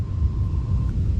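Storm rumbling in Fallout 3: a deep, loud, continuous low roar filling the whole brief moment, with no voices.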